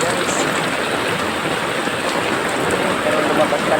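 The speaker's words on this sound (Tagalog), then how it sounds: "Sa amin ayan ang taas ng ulan" Heavy rain pours down steadily, a dense, loud hiss of water striking surfaces that stays even and close without pause.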